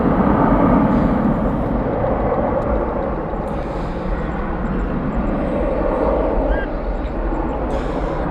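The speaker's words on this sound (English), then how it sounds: "That is a 777-200." Boeing 777-200 airliner passing over Dallas/Fort Worth airport at night, a loud broad engine roar that is strongest at first and then eases to a steady rumble, with a voice talking over it.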